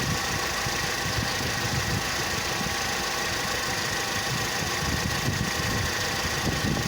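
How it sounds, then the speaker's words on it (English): A Mercedes-Benz CLK 230 Kompressor with the M111 supercharged engine idles roughly and lumpily, a steady close-up rumble with uneven low pulsing and a constant mechanical whine above it, and no voices. "It's pretty hard to see how rough the engine's running"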